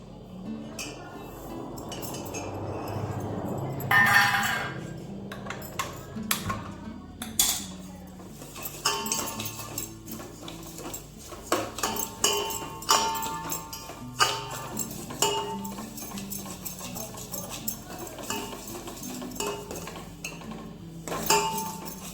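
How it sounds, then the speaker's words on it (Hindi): Broken wheat porridge (dalia) roasting in ghee in a pot, with a soft frying hiss early on, then scattered metallic clinks and scrapes of a spoon against the pan, close and intermittent. "तो यहाँ पर देखिए घी में डाल के दलिया को भून लेते हैं।"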